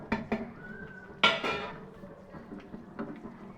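Spoon clattering and scraping in a metal pot while chicken curry is mixed, a few sharp knocks near the start followed by softer scrapes and taps, close and fairly quiet.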